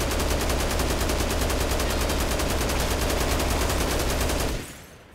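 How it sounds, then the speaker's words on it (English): Heavy machine gun in Dead Rising Deluxe Remaster firing a loud, unbroken rapid burst of rounds for about four and a half seconds, then cutting off into a short fading tail. "This is where a heavy machine gun excels."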